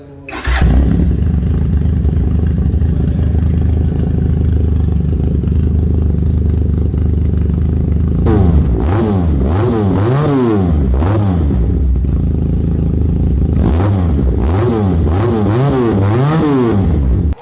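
A 2023 Taro GP 350cc twin-cylinder motorcycle engine fires up and settles into a loud idle, then revs hard in repeated rising and falling bursts, close and unbroken.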